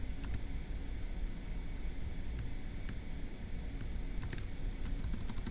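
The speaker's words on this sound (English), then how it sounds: "let's go ahead and type that up" Rapid clicks on a computer keyboard come in short bursts, with a few isolated keystrokes between clusters, faint to moderate against a steady hiss.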